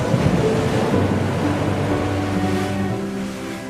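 Sea waves wash onto a shore in a loud, continuous roar of surf with low rumbling swells, close and unbroken by voices for a few seconds.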